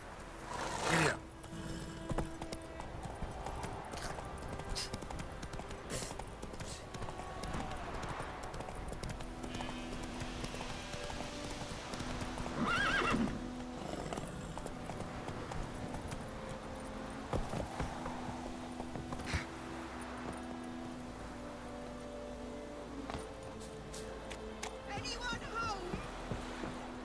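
In The Witcher 3, the horse Roach gallops with a steady, rhythmic clip-clop of hooves throughout. Occasional snorts and game music sound under intermittent talk.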